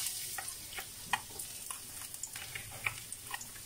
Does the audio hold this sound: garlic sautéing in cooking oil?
yes